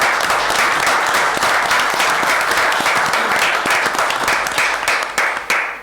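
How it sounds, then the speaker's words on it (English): A loud, sustained round of applause from the audience at a Hutchinson city council meeting, greeting a VFW donation for a baseball park. The dense clapping carries steadily throughout and tapers off at the very end. "I think the VFW needs a round of applause for our donation."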